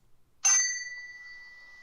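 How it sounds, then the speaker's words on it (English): A single bright bell ding in an Alexa voice adventure game rings once and sustains with a long, clean ringing decay, heard alone and fairly quiet. "The bell rings."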